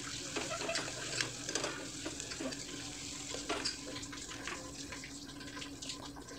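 Mutton pieces and chopped tomato frying in hot oil while being stirred, a steady close sizzle with irregular scraping and clinking of the spoon against the pan throughout.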